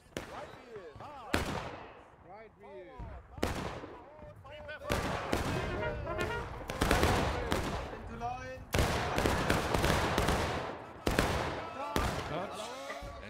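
Musket volley fire in War of Rights, a Civil War battle game on the Piper Farm map, crackles in repeated ragged bursts with booming shots near and far, under a commentator's steady voice.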